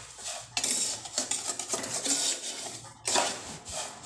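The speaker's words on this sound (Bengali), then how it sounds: "এইভাবে দেখুন এটা সুন্দর করে ভাজা করে নিতে হবে।" Semolina and vegetables stirred and dry-fried in a pan for Bengali jhal suji, a utensil scraping and clinking against the metal in irregular bursts, close and clear with no talk.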